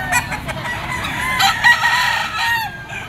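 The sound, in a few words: bull stag rooster crowing at pet market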